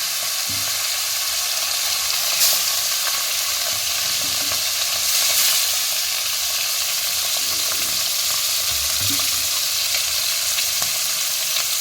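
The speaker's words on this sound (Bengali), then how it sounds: "এই ভাজা তেলেই আমি আবার ভোলা মাছগুলো ভেজে নেব" Bhola fish frying in hot oil in a pan, a steady close sizzle with soft crackle and occasional light stirring clinks throughout, no voices.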